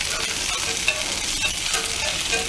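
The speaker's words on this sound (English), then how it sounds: "that's what we're going to sear our venison steaks in" Venison back strap steaks searing in a hot pan give off a steady, close frying sizzle and hiss, with a few small pops and no talking.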